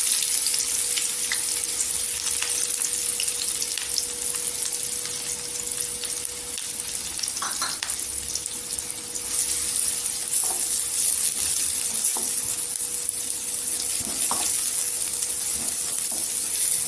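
Chopped onions sizzle steadily in a pan of hot oil with cumin seeds for a Marathi-style brinjal curry, a dense, continuous frying hiss close up with occasional light stirring clicks and no talking.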